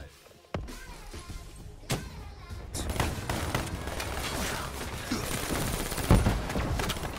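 Rapid AN-94 rifle fire in the video game Black Ops 3, with dense bursts of shots and booms over a busy, loud game mix, plus faint voices.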